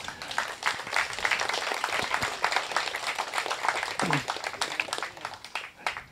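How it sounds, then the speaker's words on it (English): A small crowd at a rowing club coaches and coxswains meeting claps for several seconds, a brief, moderately loud round of applause with scattered individual claps. "let's give them a, a quick round of applause"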